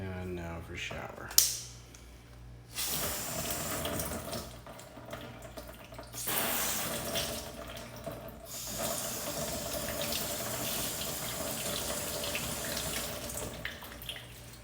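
Shower head spraying water over car panels coated with Autoglym Rapid Ceramic spray, a rushing, splashing water sound that starts and stops in several bursts of varying loudness, close to the microphone.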